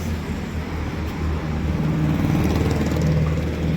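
A Yamaha Mio motorcycle with a 132cc bore-up engine and RVN camshaft runs loud and close, a continuous buzzing engine drone that swells slightly as it is revved, with no voices.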